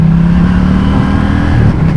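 A KTM Duke 790 twin-cylinder motorcycle revs up close and loud. The engine note holds steady and rises slightly before dipping near the end, with no voices.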